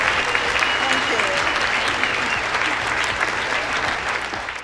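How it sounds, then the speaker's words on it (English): Loud, close applause from an audience cheering schoolchildren at a community water-education event, a dense continuous crowd of clapping that holds steady before tapering slightly at the end. "Let's give these kids a round of applause."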